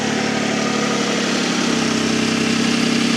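A 2005–2010 Toyota Avalon engine idles steadily with a small exhaust leak, giving a continuous, fairly loud hum with faint ticking texture and no voices over it.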